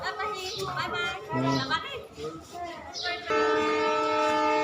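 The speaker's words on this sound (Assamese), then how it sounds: "এতিয়া লাহেকৈ ট্ৰেইনখন যাবগৈ এয়া যাবলৈ ওলাইছে" A train horn sounds loudly and holds steady as a train departs Bokajan station in Assam, after children's voices and chatter, with rail noise in the background.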